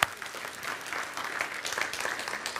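Church congregation breaks into steady applause during a sermon, a dense continuous patter of many hands clapping at moderate volume, alone without speech.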